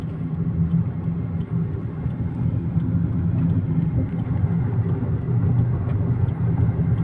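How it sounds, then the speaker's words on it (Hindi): A car moving at high speed, about 100, on a road through the Wadi al-Jinn area near Madinah gives a steady, loud low rumble of engine and road noise, heard from inside with no talk. "ये देखें कितनी स्पीड पे गाड़ी जा रही है"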